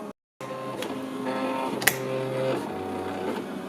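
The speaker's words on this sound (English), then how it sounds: "the printer is trying to find the cut lines. I mean the plotter, sorry." A Silhouette Cameo 3 cutting plotter whirs and hums steadily as it scans for cut lines, with shifting motor tones, a brief dropout and a small click, heard close with no talk.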